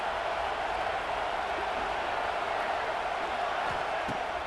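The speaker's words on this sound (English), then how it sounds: "The roar of the crowd trying to fuel this defense to keep them pinned in their own end." Football stadium crowd roaring steadily as fans urge the defense on, a dense, continuous wash of distant voices with no pauses, loud and unbroken throughout.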